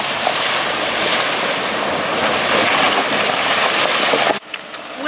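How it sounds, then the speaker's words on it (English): A 2019 Jeep Cherokee Overland pushes through mud, giving a steady, loud wash of splashing and churning with engine rumble underneath, cutting off abruptly near the end. "we're going to drive through some mud and see how it"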